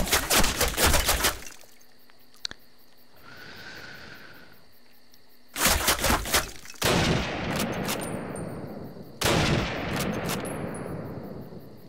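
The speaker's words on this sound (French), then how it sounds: "ça tire de l'autre rive à mon avis" Gunfire from the far bank of a river in a Call of Duty game, heard as several loud bursts of shots separated by quieter stretches with insect-like chirping, each burst trailing off in a long echoing decay.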